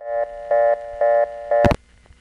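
Test line on a New York telephone exchange answering after a 1 is dialed: four steady mechanical tone bursts, each about a quarter second long with even gaps, then a loud click and near silence.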